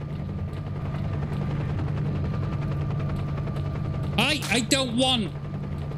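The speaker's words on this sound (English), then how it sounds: "Who the hell has a helicopter in this fucking universe?" A helicopter in the game STALKER Shadow of Chernobyl gives a steady, low rotor drone throughout, with gunfire-like rumble beneath it and someone talking briefly near the end.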